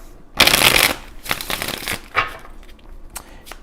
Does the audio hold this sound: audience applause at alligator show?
no